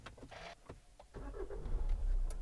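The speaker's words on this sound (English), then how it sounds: "the engine will start." A 2013 Hyundai ix35 1.7 CRDi diesel starting up, a short crank followed by the engine catching into a low, steady idle that grows slightly louder, heard close with no talking.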